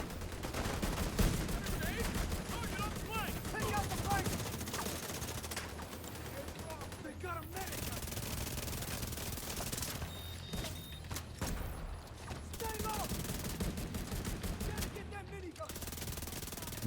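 Sustained minigun fire rattles in the Division 2 shooter game, long bursts with brief pauses, loud and dense, while players talk over it.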